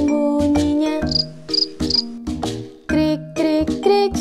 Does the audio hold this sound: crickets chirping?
yes